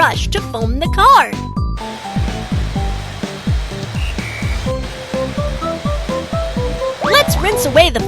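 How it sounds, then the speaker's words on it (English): Cartoon car wash foam being brushed onto a dirty car in a children's mechanic game: a steady hissing spray-like wash runs throughout beneath a bright plinking music track, with cheerful sound effects near the start and end. "Drag the brush to foam the car."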